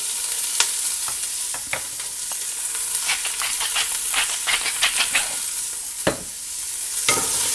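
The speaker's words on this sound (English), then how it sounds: "Then we are going to add our onions and garlic and just kind of render these down. Give it a little stir." Onions and garlic sautéing in a pan on a farm-to-table cooking setup, a soft sizzle broken by irregular scraping stirs from a utensil, near and steady with no voices.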